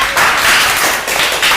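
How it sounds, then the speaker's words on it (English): A classroom of students in a spoken English class claps together in a short, dense burst of applause that runs the full moment with slight dips. "clap everybody"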